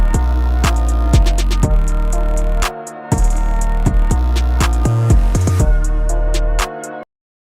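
A squashed, quiet 808 bass plays under the repeating loop of an FL Studio beat, sitting low and muted beneath punchy drums and melodic layers, with a brief dropout midway and an abrupt stop near the end.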